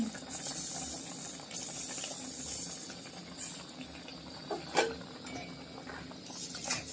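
Carrot halwa bubbling in a pan as sugar is added, a steady hiss of simmering with a few clinks of a spoon against the pan, heard close with no talking.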